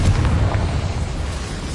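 Confringo blasting spell exploding in the wizarding game Hogwarts Legacy, a single loud, deep boom with a rumbling low-end decay that fades over about two seconds.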